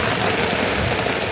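Hail falls in a heavy storm as a dense, steady, loud patter of stones striking surfaces, unbroken over a brief stretch with no voices.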